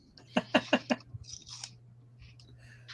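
Crunchy puffed caramel candy is bitten on camera, giving four sharp, close crunches in quick succession, then quieter chewing and faint rustles over a low background hum.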